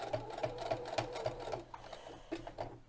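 A sewing machine stitches across the last corner of a fabric potholder in short, rhythmic bursts of mechanical chatter, pausing briefly for the turn before resuming, close and moderately loud.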